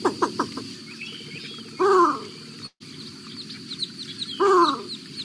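Least bittern calling from a marsh in Maine: a few quick clucking notes at the start, then two separate harsh squawks a few seconds apart, with other faint bird chirps in the background.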